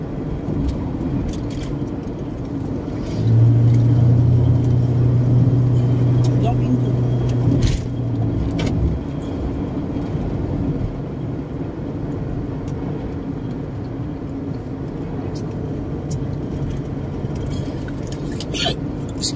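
A car drives along a road in a steady low cabin rumble, with people talking inside over the engine and road noise throughout.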